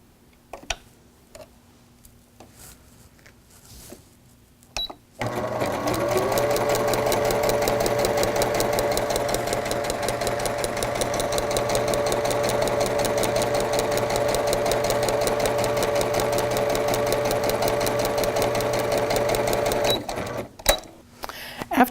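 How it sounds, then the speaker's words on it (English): Sewing machine stitching a seam with a wing clipper piecing tool in use, starting after a few quiet seconds with soft handling noises, then a loud steady rapid mechanical whir with a constant motor tone for about fifteen seconds before stopping. "And now we're ready to sew our second seam."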